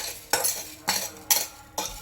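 Roasted rice for kheer is scraped out of a hot pan with a metal spoon, four sharp scooping scrapes at an uneven rhythm, close and fairly loud, with no talking.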